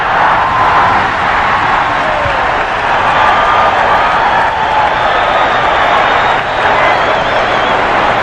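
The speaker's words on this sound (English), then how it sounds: "they're up on their feet cheering that play by Dr. J" A crowd in a basketball arena at the 1984 NBA All-Star Game cheers a Dr. J play with a loud, steady roar that fills the whole span, and commentators can be heard under it.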